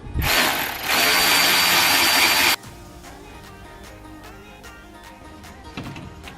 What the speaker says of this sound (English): Loosen the 12mm bolts here.